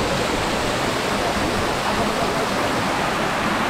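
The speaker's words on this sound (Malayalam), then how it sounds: "അങ്ങനെ നമ്മളിതാ വാട്ടർഫോൾസിലെത്തി." A waterfall near the Dead Sea in Jordan pours in a loud, dense, unbroken roar of falling water, close and steady throughout, with no voices over it.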